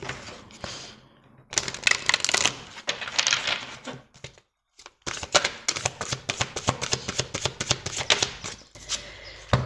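Tarot cards are drawn and shuffled near the microphone, making crisp riffling flutters and rapid card slaps in bursts with brief pauses.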